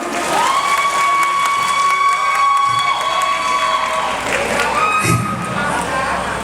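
A Thai likay troupe's audience claps and cheers at a live show, crowd noise and applause loud and continuous over sustained tones from music or a voice, with children's shouts mixed in.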